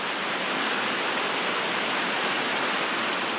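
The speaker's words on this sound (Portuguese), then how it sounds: "Olha o Pai mandando a chuva" Steady rain falls in a dense, even hiss that stays loud and unbroken throughout, with no voices.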